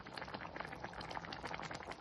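Chicken gravy spiced with coriander powder, cumin powder and garam masala bubbling as its water cooks down, a steady close bubbling and popping that runs unbroken at low volume.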